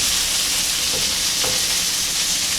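Beef tripe frying in a pan in a Korean-style dish, flipped with two spatulas: a loud, steady sizzle with soft scraping and stirring, no speech.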